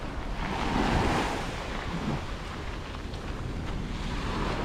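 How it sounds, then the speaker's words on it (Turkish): Steady wash of ocean waves rolling onto the shore, with wind rumbling across the microphone; no one speaks. "Şimdi Antalya'daki gibi normal dalgalar var."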